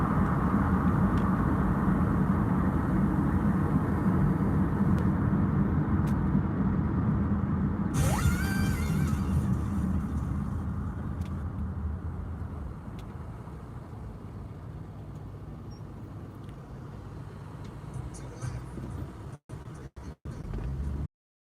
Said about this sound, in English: quite a bit of traffic